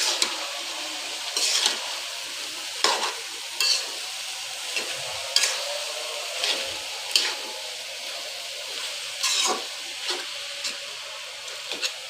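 Cabbage added a little at a time to beef frying in a pan, giving a continuous soft sizzle with intermittent scraping and stirring strokes, close and moderately quiet, no talking.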